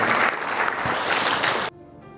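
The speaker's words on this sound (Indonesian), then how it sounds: "Tepuk tangan untuk Pak Herriat." An audience claps loudly in sustained applause at the Ciamis regent and vice regent handover ceremony, a dense close wash of clapping that stops abruptly near the end.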